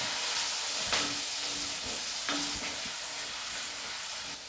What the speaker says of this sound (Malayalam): പച്ചമുളക് പച്ചമണം മാറുന്ന രീതിയിൽ നല്ലപോലെ ഒന്ന് വഴറ്റി മൂപ്പിച്ച് വഴറ്റിയെടുക്കുക